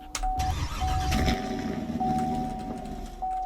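A police-trim car engine in the video game Greenville cranks and turns over, settling into a low idle hum with a steady tone running through it; no talking.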